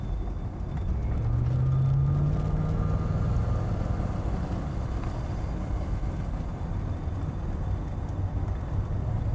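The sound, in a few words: Mercedes-Benz 500E automatic car driving on test drive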